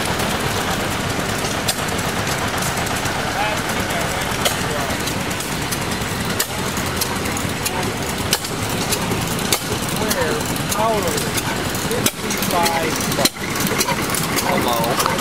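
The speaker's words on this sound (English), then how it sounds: "Let's check out some of these static engines." Several stationary engines chug steadily at a tractor festival, a continuous rumble with occasional sharp pops and background voices.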